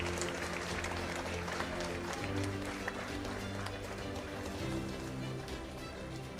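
Applause from an audience standing to welcome guests at a state-level English moot court competition final, a dense, steady clatter of clapping filling a hall throughout, with faint crowd murmur underneath.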